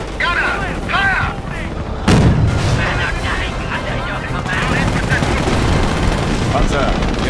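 Tank gunfire in the Company of Heroes strategy game: a single sharp, heavy cannon blast with a low rumbling tail, set among game voices and ongoing battle noise.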